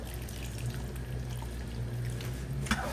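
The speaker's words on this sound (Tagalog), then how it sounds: "this time magdadagdag ho tayo ng tubig kasi medyo malapot na po kaagad" Hot water pours steadily into a pot of simmering spicy pork caldereta, a continuous close stream that keeps on for a few seconds, alone with no talking.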